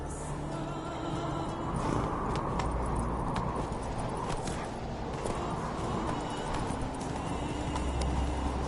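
A horse galloping in The Witcher 3, a dense, continuous drumming of hooves over loud rushing ambience, holding steady for the whole stretch.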